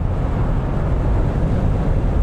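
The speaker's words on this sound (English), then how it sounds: "It's wind. The wind noise is really loud." Loud, steady wind roar fills the cabin of a Polestar 4 electric car at speed. The broadband rush holds constant with no voices, as if a window seal is leaking.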